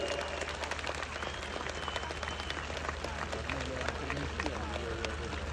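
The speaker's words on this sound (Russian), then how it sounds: "давайте аплодисментами поблагодарим обоих боксеров за этот прекрасный" Audience applause after a boxing match, a continuous crowd clapping in a large venue with a low hum underneath and scattered cheering voices mixed in.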